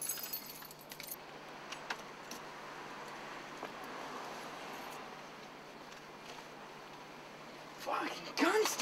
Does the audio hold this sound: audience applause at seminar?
no